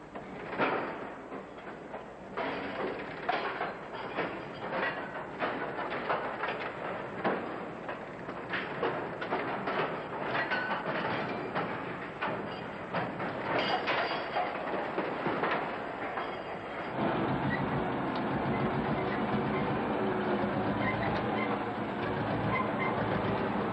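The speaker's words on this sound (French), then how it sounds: "Elle va parcourir plusieurs kilomètres, tout d'abord sur wagon." A rail wagon carries heavy mining equipment, an 18-tonne unit, through a mine, with irregular clanks and rhythmic clicks giving way to a steady rolling rumble, fairly faint, with no voices.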